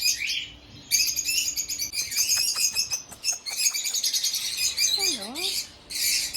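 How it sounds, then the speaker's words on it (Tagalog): Lovebirds and other small birds in an aviary chirp and tweet in dense, overlapping bursts, bright and fairly near, with a brief spoken word over them. "Special daw yung lovebirds. There they are."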